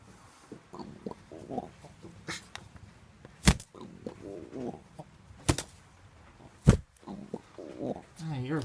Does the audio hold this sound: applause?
no